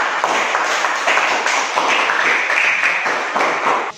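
Classroom students clap their hands together in a steady, fairly close burst of applause lasting a few seconds.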